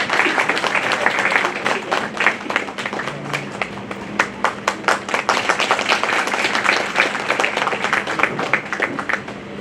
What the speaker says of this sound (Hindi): जोरदार तालियों से सबका स्वागत है।